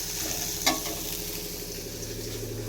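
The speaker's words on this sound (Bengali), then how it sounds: "তুলতুলের বাবার জন্য একটু আলু বিনস ভাজা করছি" Potatoes and beans frying in a pan for a home meal, a continuous close sizzle with a brief sharp clatter early on, no talking.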